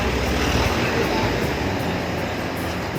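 A motorcycle engine revs loud and close, its steady broadband roar holding for the whole stretch with no talk over it.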